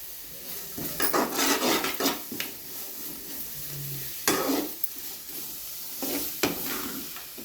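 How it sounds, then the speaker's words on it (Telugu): Carrots stir-fried in a pan for carrot rice, with a spatula scraping in a few separate bursts over a soft continuous sizzle, close by and with no talking. "క్యారెట్ మరి ఎక్కువగా వేపకూడదండి, కొంచెం దూరగా వేయించుకుంటే సరిపోతుంది."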